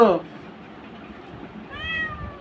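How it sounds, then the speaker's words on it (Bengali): A house cat gives a short meow at the start and a second, longer rising meow near the end, close and clear against a quiet indoor background. "মিয়াও বলো মিয়াও"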